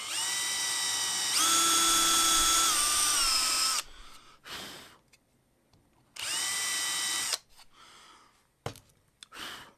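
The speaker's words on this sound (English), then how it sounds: "Get a drill bit. Or drill for our drill bit." A power drill whines into wood in two sustained bursts, each running a few seconds at steady pitch, with short quieter gaps and small knocks between them.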